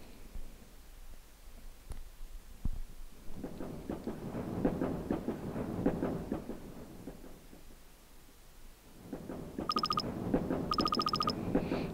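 In-game train ride from Mogeko Castle, a low rumbling rhythmic rattle of carriages that swells and fades, with a few bright electronic chime tones near the end.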